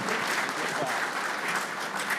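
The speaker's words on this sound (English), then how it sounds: "big applause." Steady, dense applause from a banquet audience fills the whole stretch, loud and continuous without pauses.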